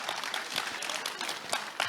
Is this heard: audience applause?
yes